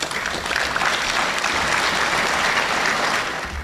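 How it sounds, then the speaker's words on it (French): Banquet guests at a Chinese federations' spring festival celebration applaud together, a dense, even wash of clapping from a large crowd that holds steady for several seconds with almost no voices. "j'ai besoin d'applaudir pour ça"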